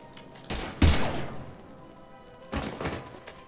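Gunfire in the video game Mass Effect 3: a sharp burst of shots near 0.8 s followed by a fading reverberant tail, then another thudding blast around 2.6 s, loud and close with no talk over it.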